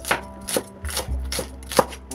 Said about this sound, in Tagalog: spring onion ay gayatin nyo ng malipis